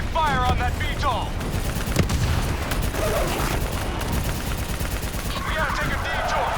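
Loud, continuous combat gunfire in Call of Duty: Black Ops 3, with rapid shots and bursts among battle noise, plus brief whistling and sweeping tones.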